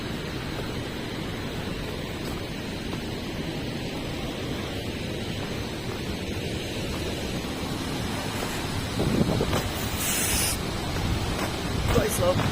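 A waterfall near a hydro power station roars as a steady, broad rush of falling water, with a few brief louder bursts near the end.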